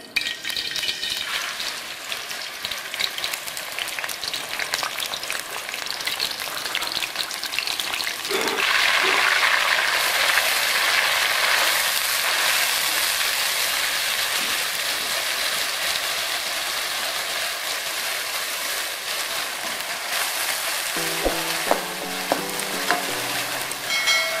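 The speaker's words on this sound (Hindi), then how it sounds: "प्याज को हमें अच्छे से ब्राउन कर लेना है" Grated onions sizzle and crackle steadily in a hot pan while browning, growing louder as stirring begins, with occasional clinks of a utensil.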